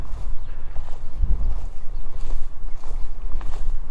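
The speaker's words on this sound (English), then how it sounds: "It's difficult to stabilise a rod with this wind." Wind blowing outdoors among the Avebury standing stones, a steady low rumble and buffeting against the microphone that runs throughout with gusts swelling and easing.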